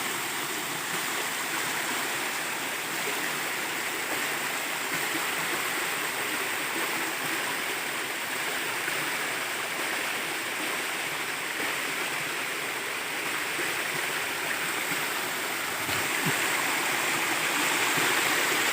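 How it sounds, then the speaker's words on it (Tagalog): A small waterfall pours down over rocks outdoors, a steady, full rushing and splashing wash heard close and unbroken, with no speech over it. "Yan sa baba, may hulog yan ng tubig dyan."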